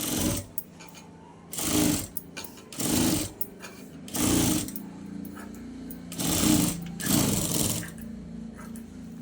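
A sewing machine stitches a blouse sleeve design on black cloth, running in six short, rapid whirring bursts separated by brief pauses. The machine is close and clearly heard.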